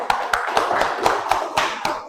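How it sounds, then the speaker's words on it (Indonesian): Classroom applause for a student group after a Qur'an Hadith lesson presentation, a short burst of hand claps from several pupils with steady, evenly spaced beats, close and moderately loud. "Silakan beri tepuk tangan."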